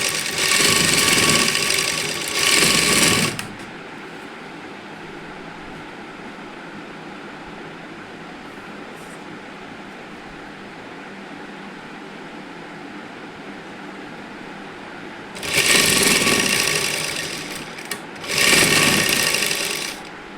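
A sewing machine stitches the neckline of a housecoat in two loud, steady bursts at the start and two more near the end, with a quiet room hum in between and no talk.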